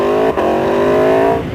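Aprilia RSV4 1100 Factory sportbike engine with its exhaust flapper valve disabled, revving loudly and close with a steady harmonic roar, a brief dip in throttle early on, then holding high before easing off.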